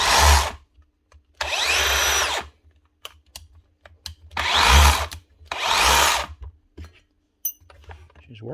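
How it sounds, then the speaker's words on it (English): A Dewalt 54V DCH334 SDS drill runs in four loud, close bursts of a couple of seconds each, with clicks and handling noises between them. "Next up, a Dewalt 54 volt SDS."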